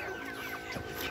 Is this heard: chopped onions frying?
no